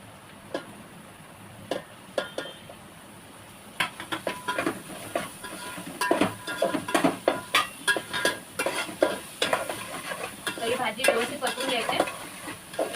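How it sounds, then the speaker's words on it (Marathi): Carrots and green beans stir-fried in a pan for a Chinese chicken egg fried rice, with a spatula clattering and scraping against the metal in quick irregular strokes over a low sizzle, growing busier and louder partway through. "हे घालून त्याला त्यात परतून त्यामध्ये बाकीची भाजी घालते पहिलं गाजर आणि फरसबी घालायचे"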